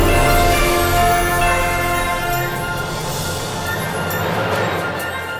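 A woodwind phrase plays inside a dense, loud orchestral Christmas intro, sustained tones layered over low strings and brass that gradually thin toward the end.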